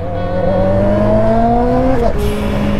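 A turbocharged Yamaha XJ6 motorcycle engine revs loud and close on the street. Steady engine tones climb in pitch over about two seconds, then drop sharply, with a continuous heavy roar throughout.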